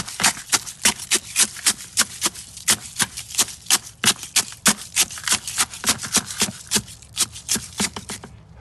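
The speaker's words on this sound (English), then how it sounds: "I am crushing them and making a bin with just eggshells" Dry eggshells crushed by hand for compost, giving a steady rapid series of sharp crackling crunches, close and loud, with no talking.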